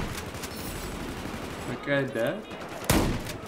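Remington 870 shotgun in Battlefield 4 fires a sharp, loud blast near the end, after a brief spoken question, against a busy background of game noise and distant gunfire.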